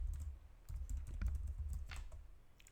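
Quiet, close computer keyboard typing of a short git version command, a quick irregular run of soft key clicks and taps with no talking.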